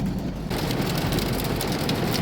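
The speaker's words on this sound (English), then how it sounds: "Little hail balls, they're little. But, yeah, it's really coming down." Small hail comes down hard outdoors in Dayton, Nevada, making a dense, steady patter and hiss that starts a moment in and keeps going without a break. No one speaks.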